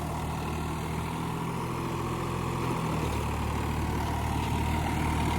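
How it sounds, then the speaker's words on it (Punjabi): Farmtrac 45 tractor pulling an 8-foot Shaktiman rotavator through a field, its engine a steady, loud, low diesel drone with a constant mechanical churn throughout. "ਲਓ ਜੀ ਫਾਰਮ ਟਰੈਕ 45 ਆ ਜੀ ਪਾਵਰ ਯਾਨੀ ਕਿ ਛੋਟੀ ਆ ਟਰੈਕਟਰ ਦੀ ਪਰ ਰੂਟਾਵੇਟਰ ਬਾਈ ਜੀ 8 ਫੁੱਟਾ ਦੇਖੋ ਸ਼ਕਤੀਮਾਨ ਕੰਪਨੀ ਦਾ 8 ਫੁੱਟਾ ਰੂਟਾਵੇਟਰ ਹੈ"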